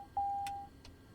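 A single sustained electronic alarm tone sounds in a TBM turboprop cockpit on the ground after landing in Microsoft Flight Simulator 2020, lasting about half a second, clear and moderately loud, with faint clicks after it.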